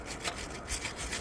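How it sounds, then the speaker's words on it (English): Wire brush scrubbing the exhaust bolts on a 2008 Honda CR-V, fast rhythmic scraping strokes heard close up during a coolant pipe repair behind the exhaust manifold. "this is the first time I'm about to use a wire brush on the job"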